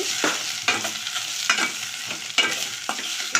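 Fenugreek seeds fry in a little oil in a pot, giving a steady close sizzle broken by several sharp scraping stirs at regular intervals.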